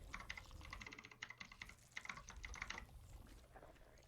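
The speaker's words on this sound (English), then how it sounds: "Of course, you're going to hear my keyboard" Someone types quickly on a computer keyboard during a StarCraft game stream, with dense bursts of clicky keystrokes and brief pauses, quiet and close.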